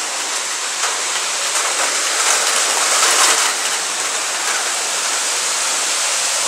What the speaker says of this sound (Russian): Звучит как град.